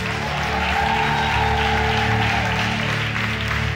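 A congregation claps steadily and loudly at a church service in acclamation of the Lord, sustained dense applause filling the whole stretch with no break.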